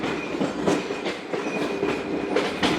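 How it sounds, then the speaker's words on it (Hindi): The Musapak shuttle train runs into Mahmood Kot on the Multan to Dera Ghazi Khan line, its wheels beating a steady, close clickety-clack rhythm over the rails with no talk. "ट्रेन महमूद कोट पहुंच रही है।"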